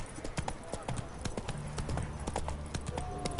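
Roach the horse trotting in The Witcher 3, steady clip-clop of hooves close by, with game voices and background ambience mixed in.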